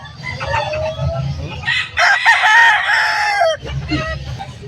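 Chickens and hens cluck repeatedly nearby at a pet market, and a rooster crows loudly through the middle, with low background rumble throughout.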